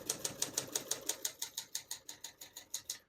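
A 1972 Adler J5 vintage portable typewriter clacks in a quick, even run of about sixteen sharp keystrokes, close and clear with no voices.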